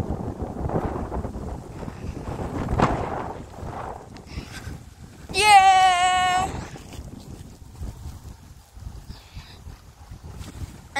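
Strong wind rushes through trees and buffets the microphone with an uneven, rumbling roar, gusting harder partway through as a brief voice-like tone cuts in.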